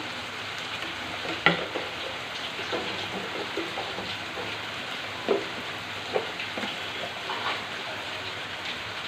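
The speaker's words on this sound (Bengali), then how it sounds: "এখন আমি মশলাটাকে ভালো করে কষিয়ে নেবো" Ground coriander and other spices fry and sizzle steadily in a pan for a rohu fish and potato curry, a continuous crackle with a few sharp stirring knocks, fairly loud and close, with no voices.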